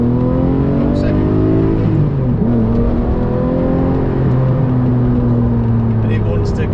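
A Lamborghini Murcielago LP670-4 SV is held in first gear in Corsa mode, its engine revving hard with a loud, continuous roar that climbs in pitch, dips briefly, then surges again, heard close up.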